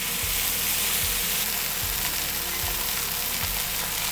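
Chicken pieces searing on a hot griddle, a dense, continuous loud sizzle with a faint low rumble underneath and no voices.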